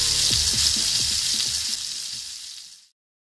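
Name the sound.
trout frying in a pan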